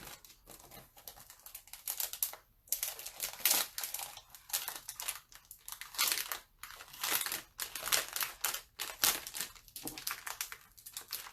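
A chalk transfer is unpacked and cut from its package, giving repeated crinkly plastic rustles and crisp snipping bursts in an irregular rhythm, close and fairly quiet, with no talking.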